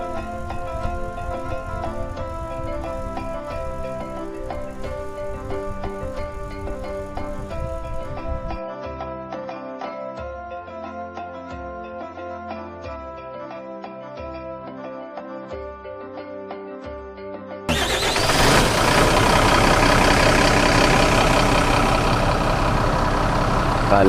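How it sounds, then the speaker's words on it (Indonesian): Idling bus engines rumble at the Sukabumi bus terminal, where a Sumatra-bound bus waits in the morning. A steady, heavy drone holds throughout, then grows louder and rougher as an engine nearby revs up. "Situasi terminal TPA Sukabumi."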